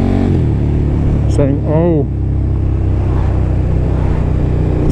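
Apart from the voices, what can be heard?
KTM 1290 Superduke R motorcycle engine revving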